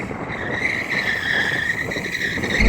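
A rear-wheel-drive BMW with stability control off skids while warming its tyres, giving a sustained, wavering tire squeal over a rough engine roar, fairly close and steady throughout with no talk.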